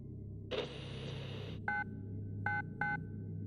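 A burst of static-like hiss is followed by three short, evenly pitched electronic beeps, quiet and spaced apart over a low steady hum.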